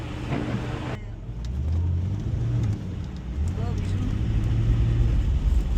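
A Corvette's engine revs hard as the wheels spin and slip on a slick road during a Champagne rally, a steady close roar rising and falling under a voice.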